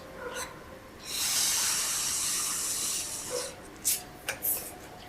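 A balloon is blown up by mouth for a magic trick, heard as a long, steady breathy hiss of air lasting a couple of seconds, followed by a few short puffs.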